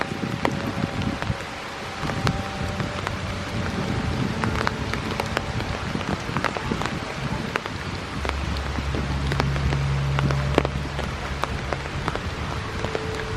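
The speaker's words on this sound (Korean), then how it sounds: "비가 내리네요." Steady rain falls around a room at a meditation centre in Myanmar, a dense continuous hiss of drops on surfaces with light wind noise, fairly close and unbroken, while a low hum enters partway through and no one speaks.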